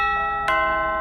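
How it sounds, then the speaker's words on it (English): A doorbell rings with a clear, sustained electronic chime whose tone shifts midway like a two-note ding-dong, loud and close, alone without talk. "Then the doorbell."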